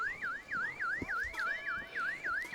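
A car alarm wails in a rising-and-falling sweep, about six quick cycles in a steady loop, loud and clear with no voices over it.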